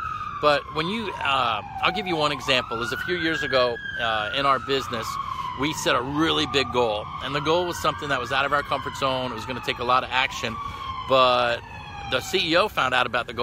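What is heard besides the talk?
police sirens in the background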